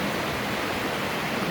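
Steady broadband rush of creek water flowing at a gold prospecting spot, constant and fairly loud, with no talking over it.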